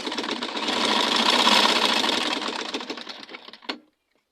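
A sewing machine runs steadily for several seconds stitching the folded edge of satin fabric for a turban cap, loud and close, then stops abruptly with a short mechanical clunk.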